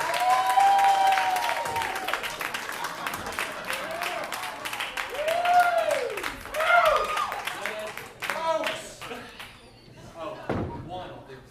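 Audience applause in a comedy club as the next comic is brought up, a spread of clapping under an emcee's voice, with a few sharp thumps near the end as the crowd settles.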